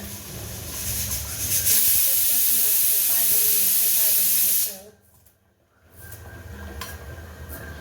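Pressure cooker whistling over the stove while cooking dalia for kheer. A loud, sustained steam hiss lasts several seconds and then cuts off sharply, followed by quieter room sound.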